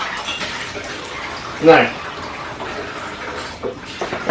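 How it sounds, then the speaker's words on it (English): Hands being washed under a running kitchen tap while cooking Japanese hamburger steak; a steady wash of water noise runs throughout, with a brief louder splash midway and a short spoken word. "I'm just going to wash up in the background."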